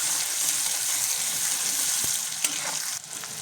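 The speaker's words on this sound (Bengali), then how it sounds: "এটাকে আমি ভালো করে লাল লাল করে ভেজে নেব।" Onions and two dried red chillies fry in a pan with a dense, continuous hissing sizzle, close and fairly loud, broken by a faint clink or two near the end.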